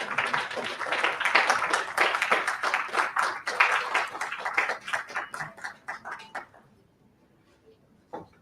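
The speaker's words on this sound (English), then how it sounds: "Please give a big round of applause." An audience at an international conference on radiation awareness claps in a lively burst of applause that gradually thins and dies out, leaving a few last scattered claps near the end.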